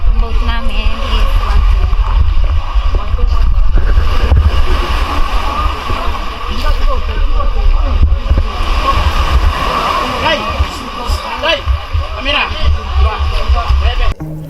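A boat ride out at sea off Oslob, Cebu, on the way to see whale sharks: a steady engine drone and wash of water mixed with wind rumble on the mic, loud and continuous, with people talking throughout.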